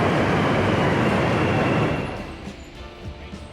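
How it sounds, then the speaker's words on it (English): A loud, roaring rumble of an elevated train passing overhead in Chicago fills the first two seconds, then fades into quieter background noise. "And then to hear a train going overhead, it's so cool."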